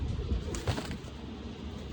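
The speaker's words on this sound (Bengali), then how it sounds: "এটা হচ্ছে নর পায়রা।" A male pigeon of the Andhra, Malwai or Madrasi breed gives a few low throaty coos, close and fairly loud, over a soft background murmur.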